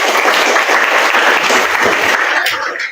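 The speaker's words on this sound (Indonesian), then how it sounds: "Beri tepuk tangan yang mulia." Audience at a religious lecture breaking into loud, close applause, a dense burst of clapping that holds steady before tapering off at the end.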